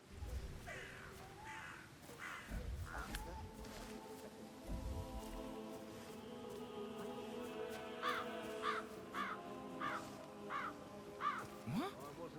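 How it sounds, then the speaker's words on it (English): Crows caw repeatedly in the Hitman 3 video game, harsh calls in short rhythmic series across the scene, mid-distance and clear over ambient rustling, with a voice speaking briefly partway through. "I'll never get rid of those stupid birds."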